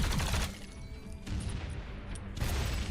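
Energy gun fire from a top-down shooter, Alienation, aimed at reaction vessels in an alien facility: dense rattling bursts at the start and end with a steadier mechanical clatter between, loud and continuous.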